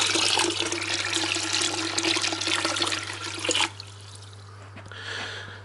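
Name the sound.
pouring water into a bucket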